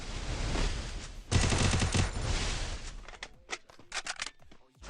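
Gunfire in the Free Fire video game, loud rapid automatic bursts rattling close, followed by scattered sharper single shots and clicks toward the end.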